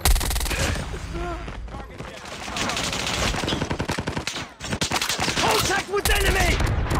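A Mac 10 submachine gun fires in a video game, sounding as loud, rapid bursts with brief gaps and voices and game callouts mixed in throughout.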